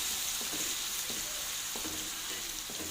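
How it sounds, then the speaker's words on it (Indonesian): Gulai with fern and jengkol is stirred slowly in a pan, a steady simmering sizzle with a few soft spoon scrapes at regular intervals. "nah kita aduk"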